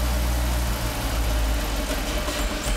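A 2015 Jeep SRT engine idling on autogas after a Prins VSI 2.0 conversion, a steady loud low rumble close to the microphone with no speech; the stall itself is not clearly marked.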